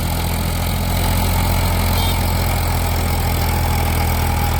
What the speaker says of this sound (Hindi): तो ऐसी स्थिति में ट्रैक्टर पर लोड भी ज़्यादा पड़ता, देखो आप।